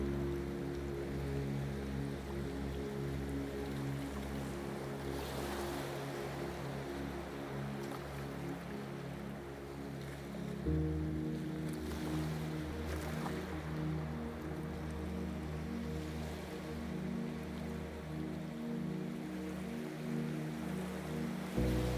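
Continuous ocean surf washes over a low, steady ship engine drone in a calm nighttime sleep soundscape, with soft swells and no voices.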